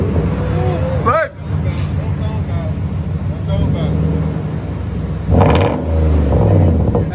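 Nissan Titan 5.6L V8 on true dual exhaust revving, heard from inside the cab as a low throaty rumble swelling with each throttle blip, with people talking and exclaiming over it.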